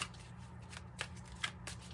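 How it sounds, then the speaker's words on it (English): Tarot deck being shuffled by hand, a soft continuous riffle of cards with a few sharper snaps, close and quiet. "Let's shuffle one more good time."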